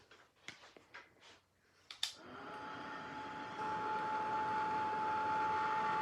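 A handheld heat embossing tool warming craft embossing powder runs as a steady, close blowing whoosh with a faint whine, starting after a few soft handling taps and rising slightly in strength as it continues.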